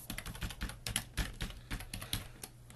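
Someone types a blog post title on a computer keyboard: quick, irregular keystrokes clatter close and clearly, with no other sound around them.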